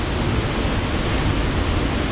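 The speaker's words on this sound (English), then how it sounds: "the waterfall is nothing terribly special." Steady broadband rush of La Paila waterfall near Florián, Colombia, a continuous roar of falling water filling the whole clip with no voices.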